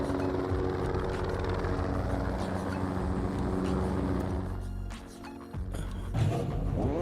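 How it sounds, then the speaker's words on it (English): A helicopter's steady droning rumble carries through, continuous and fairly loud, with engine and traffic-like noise from a sim racing setting blending underneath and no talk. "Can hear a helicopter."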